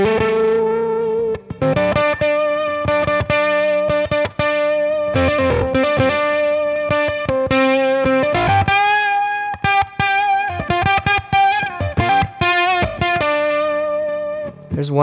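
Electric guitar played through a GGG TOCT Octavia-clone octave fuzz pedal, giving a loud, buzzy, distorted tone with strong octave-up overtones. Single notes and short phrases ring out with sustain and brief gaps, and no other sounds intrude.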